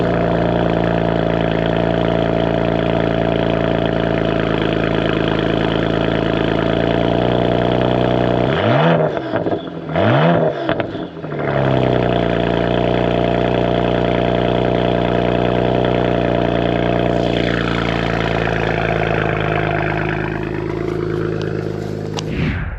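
A twin-turbo BMW N54 engine with catless downpipes, mid-cats and a modded rear exhaust section idles steadily and loud, with a brief dip and blip in the middle before settling back to a smooth, constant hum.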